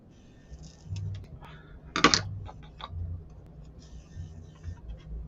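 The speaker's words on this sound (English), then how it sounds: "I'm using some scissors." Scissors shave a wooden miniature library shelf piece, giving a few soft clicks and one sharp crisp snip in the middle against a quiet background hum.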